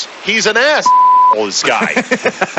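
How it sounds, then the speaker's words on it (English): A single steady censorship bleep, about half a second long, covers a swear word in the middle of a man's speech on a sports talk radio show. "I heard a beep."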